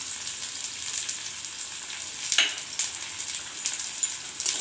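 Chopped garlic fries with softened onion and capsicum for egg chilli, giving a steady close hiss with a few sharper spatula scrapes.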